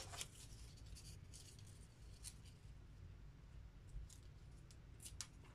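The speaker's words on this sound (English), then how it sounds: "Cut it down the center." Scissors snip through a paper shape, cutting it down the center for a cutout art project; soft, quiet crisp cuts recur irregularly over a low steady hum, with no talking.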